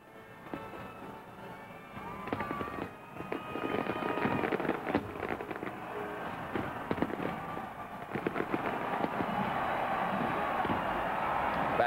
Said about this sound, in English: have regular fireworks performances, but this is a special one, obviously.